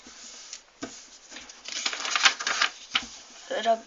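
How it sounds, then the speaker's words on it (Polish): A sheet of paper is folded and firmly creased by hand while making an origami butterfly, giving a series of close crinkling, rustling and sharp pressing sounds that grow louder toward the end. "Teraz tą kartkę znowu zginamy tak i jeszcze mocniej dociskamy."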